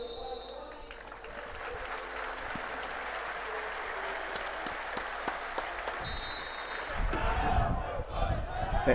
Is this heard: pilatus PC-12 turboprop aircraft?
no